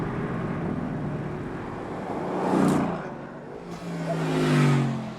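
A Porsche 911 Turbo engine swells twice in smooth rising revs, a muffled whooshing roar that builds and fades, heard fairly close with no talking.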